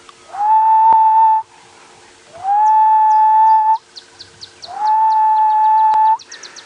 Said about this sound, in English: We've got ring-necked doves going prop, prop, prop, the gentle call of the ghost bird or grey-headed bushwright.